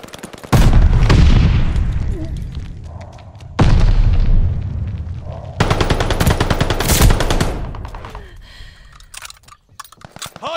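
Gunfire at a hard point in a video game: loud bursts of rapid machine-gun fire and booming blasts in several long volleys, close and intense, with brief quieter gaps and clicking between.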